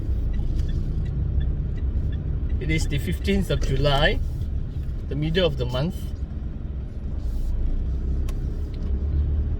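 Interior of a moving car, a steady low road rumble and engine hum filling the cabin while someone talks twice in short stretches over it.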